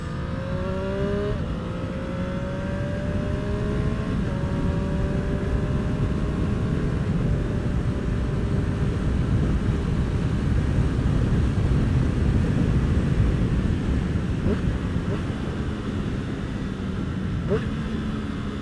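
A Triumph Street Triple RS motorcycle engine drones steadily while riding on a wet road, its pitch sliding down through gear changes amid constant wind rush, with a voice talking over it.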